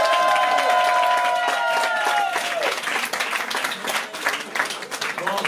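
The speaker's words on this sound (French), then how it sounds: "Veuillez accueillir, s'il vous plaît, dans un tonnerre d'applaudissements" Applause from the audience at a slam poetry evening as the next poet is welcomed; a voice speaks over the start, then clapping from the crowd carries on alone, fairly close.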